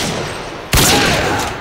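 A single loud sniper rifle shot cracks out in Call of Duty Modern Warfare 2, cutting abruptly through steady background game noise and decaying slowly afterward.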